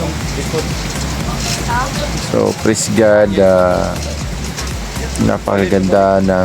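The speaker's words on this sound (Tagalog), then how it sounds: "malakas ang ulan at hangin" Heavy rain and wind on Samal Island make a steady, loud hiss and patter, with someone talking over it for most of the stretch.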